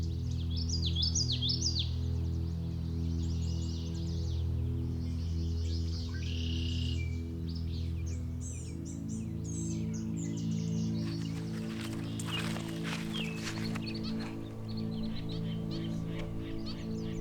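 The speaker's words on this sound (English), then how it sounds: "Hearing tons of birds, but they're being pretty shy today." Birds call and chirp along a marsh trail in Indiana, a mix of bright repeated tweets and warbling phrases over a steady low hum, fairly faint and distant, with a brief scratchy rustle near the end.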